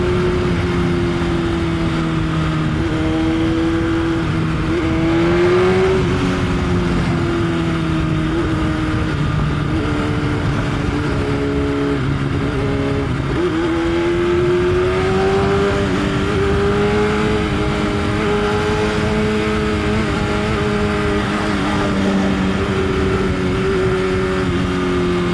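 An S1K motorcycle is ridden through New York City streets, its engine droning loudly and continuously with gentle rises and falls in pitch as it changes speed, mixed with steady wind and road noise and no talking.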